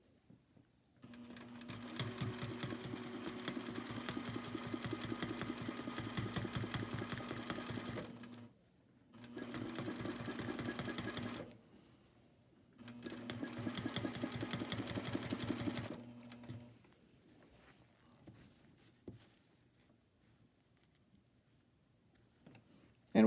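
A sewing machine machine-quilts along an oval ruler, its needle running in three rapid, steady bursts separated by short pauses, close and fairly loud. It falls quiet at the end, and no one speaks.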